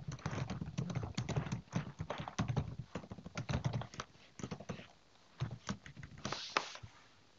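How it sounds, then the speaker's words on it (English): Fast, uneven typing on a computer keyboard, close and clear, with a steady stream of clicky key strikes, short pauses and a few louder taps near the end. "I will type something here."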